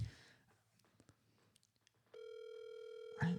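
A telephone tone starts partway through and holds steady as a single unbroken note after a stretch of faint rustling, then a short louder burst comes at the end.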